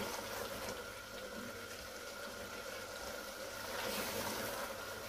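Minced meat keema with whole spices sizzles and fries in oil in a pan, a continuous close crackling hiss holding steady with no talk.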